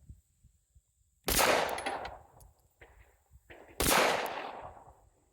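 Two loud 9mm pistol shots from a Beretta 951, each followed by a ringing clang as the round strikes a hanging steel tank plate, spaced a few seconds apart with fading metallic resonance.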